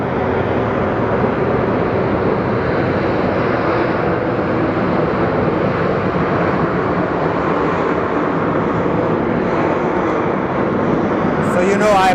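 American Airlines passenger jet at Phoenix Sky Harbor on a rainy day, a steady broad roar of engine noise holding for the whole stretch without letup.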